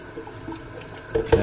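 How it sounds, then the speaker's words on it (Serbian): Running tap water pours into a sink as dishes are washed, a steady close splashing stream that swells with louder gushes near the end. "Opere se sve vodom jer nema ničega što ne silazi s vodom."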